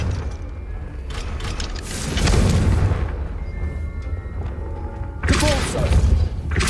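A Confringo fire spell blasts in Hogwarts Legacy: deep thudding booms and explosive bursts hit in a couple of waves over a rumbling background, with no voices over them.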